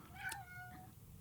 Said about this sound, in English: My cat has something to say about the hiring in Detroit, apparently.